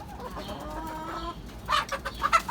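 Hens cluck in a backyard coop and run, with a few short, close clucks and squawks in quick bursts over quiet farmyard background.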